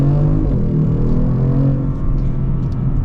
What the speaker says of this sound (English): and we'll get our full-blown acceleration